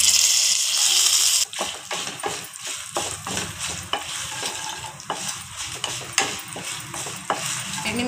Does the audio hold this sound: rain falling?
no